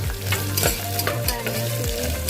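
Green peas and potatoes frying for Godavari-style veg pulao, a steady loud sizzle with a spatula repeatedly scraping and stirring the pan in a regular rhythm, close up with no voices.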